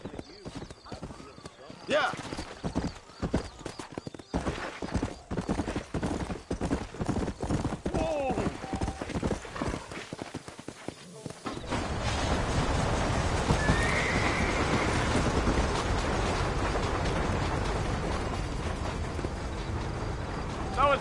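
Steady clip-clop of horse hooves on a trail in the Red Dead Redemption video game, with a horse whinnying and a brief spoken word early on, the hoofbeats growing denser and louder in the second half.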